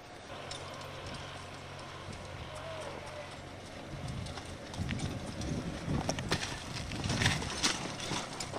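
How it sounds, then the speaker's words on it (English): Horse hooves clip-clop on the ground of a tobacco farm, the irregular thuds growing louder and closer in the second half, with light wind and faint outdoor ambience. "They use a horse to run it because that place is too short."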